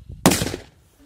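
A Labombas firecracker of about 4.5 grams bursts outdoors during New Year's Eve celebrations, a single sharp, loud bang followed by a brief rumbling decay, with no one talking.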